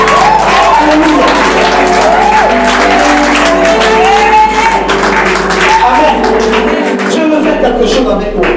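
A church congregation cheers and applauds the Lord, with loud sustained clapping, shouts and whoops mixed with voices filling the space.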